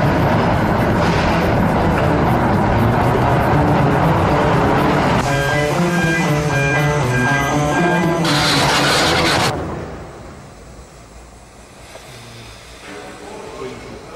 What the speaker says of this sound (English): Rocket train will be launching the mountain immediately.